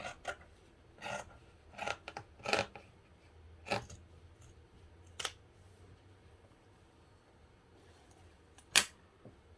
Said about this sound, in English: I'm going to trim this down a little bit.